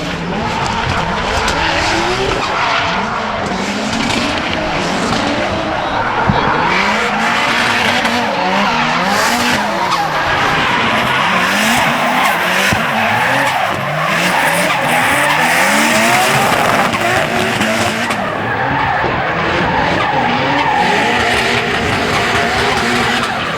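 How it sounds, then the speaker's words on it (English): Rear-wheel-drive Mitsubishi Evo drifting at a competition, engine roaring continuously at high revs with sustained tire squeal and skidding for the whole run, loud and close with no talk. "Cam, Mike, rear-wheel drive Evo in the lead, and we're just going to absolutely send it."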